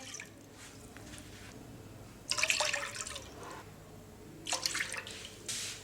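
Milk is poured into a metal cooking pot while making chocolate ice cream, giving two short splashing pours over quiet background noise.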